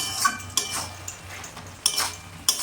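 Spoon scraping and clinking against a cooking pot while prawn and spinach curry is stirred, a few short metallic strokes spaced apart over a low steady hum, close and moderately loud.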